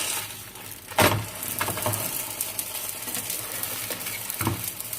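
Small Moroccan batbout flatbreads cook in a hot pan, with a steady quiet crackle of heat and a few sharp scrapes and knocks as they are turned, close by and with no voices.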